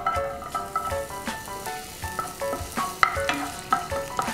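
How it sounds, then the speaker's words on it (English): Garlic sizzles in a pan with leftover tomato and zucchini bits, a soft frying hiss under repeated metallic scraping and clinking as a utensil stirs in a steady rhythm. "Get that nice and sizzly."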